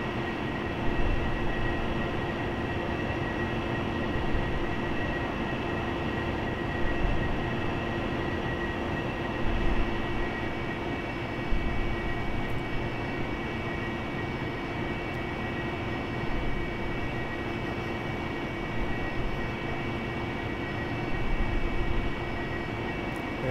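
An AV-8B Harrier jet in the DCS flight simulator turns in for a short takeoff-and-landing approach, its engine a steady, loud, unbroken roar with slight swells and no talking.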